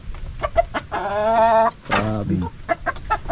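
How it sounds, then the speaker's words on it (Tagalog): Large, fast-growing farm chickens clucking and squawking loudly up close, with drawn-out harmonic calls and short clucks, while a voice briefly speaks. "mga giant na manok no"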